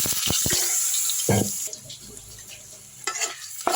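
Pepper, ajwain, cumin, chili powder and garlic are stirred in a hot pan, with scraping spoon strokes and clinks over a soft sizzle in a home kitchen.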